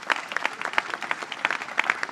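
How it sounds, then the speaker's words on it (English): Scattered, distinct hand claps from a modest crowd at a Bronx studio expansion announcement, individual slaps standing out in a loose, uneven rhythm over a couple of seconds. "Let's give him a strong round of applause"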